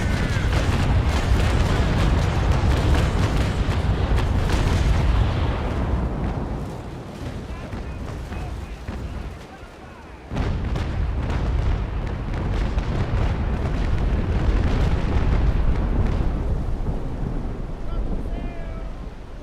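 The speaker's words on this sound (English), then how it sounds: "Watch this, I'm gonna do a couple of ranging shots on him." Naval guns fire ranging shots during a ship battle in a video game, giving loud, sustained rumbling booms. The roar dips and fades for a moment midway, then surges back at full strength.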